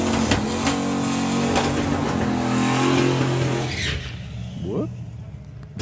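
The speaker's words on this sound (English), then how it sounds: "Now, Joel Webster coming round for a time trial run with the Fast Company Ford Mustang." The Fast Company Ford Mustang drag car revs loudly on a time trial run at a drag racing event, a steady roaring engine drone that fades and drops off near the end, with a commentator talking over it.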